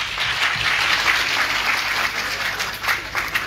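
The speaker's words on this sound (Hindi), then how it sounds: "एक बार जोरदार तालियां अपने लिए आप बजाएंगे।" A crowd claps loudly at an event in a government degree college hall, a steady wash of applause that carries on without a break.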